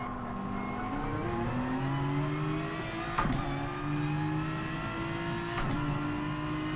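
A Porsche GR3 race car in Gran Turismo Sport at Circuit de la Sarthe screams at high revs, climbing in pitch with two sharp gear shifts that each drop the note before it rises again, loud and close throughout.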